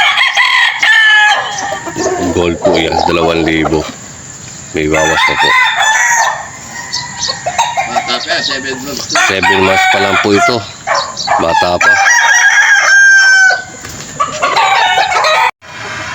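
Roosters crow loudly and repeatedly at close range among clucking chickens, the long rising calls overlapping one another, while someone talks between and over the crowing.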